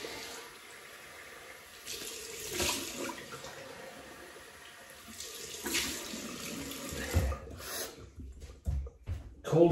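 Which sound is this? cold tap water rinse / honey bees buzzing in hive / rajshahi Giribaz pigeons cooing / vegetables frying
cold tap water rinse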